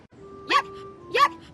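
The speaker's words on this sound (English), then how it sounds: "It barked" A puppy barking outdoors, two short high-pitched yips spaced about half a second apart, near and moderately loud against a quiet background.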